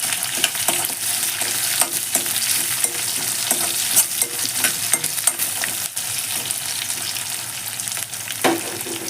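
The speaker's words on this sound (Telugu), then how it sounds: "ఉల్లిపాయ ఒకటి వేసేసుకోండి. ఒక గడ్డ సన్నగా కట్ చేసుకొని వేసుకోవాలి." A thinly sliced onion frying in oil for Andhra-style gongura dal gives a loud, continuous sizzle broken by frequent scrapes and taps of a spoon stirring the pan.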